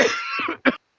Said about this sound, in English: I'm coughing like I got the plague